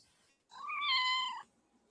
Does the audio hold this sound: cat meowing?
yes